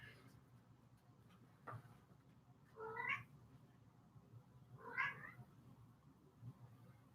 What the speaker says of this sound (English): Man, cats.